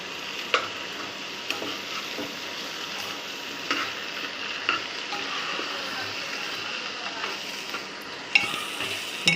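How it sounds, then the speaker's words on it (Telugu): A paste of ginger, garlic, tomato, coriander and mint sizzles steadily in a pan, a continuous frying hiss with occasional clicks of a spoon stirring. "ఇప్పుడు ఇందులోకి అల్లం వెల్లుల్లి టమాటా కొత్తిమీర పుదీనా మిక్సీ పట్టిన పేస్ట్ని యాడ్ చేసుకోవాలి"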